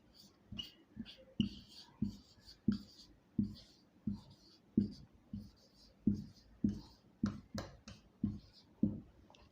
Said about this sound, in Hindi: तो हम इसको लिख लेंगे फियर ऑफ बुक्स।